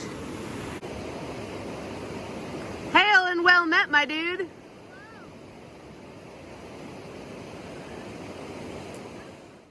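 The McCloud River flows beneath a bridge, a soft, even wash of moving water running steadily throughout, with someone speaking briefly over it near the start.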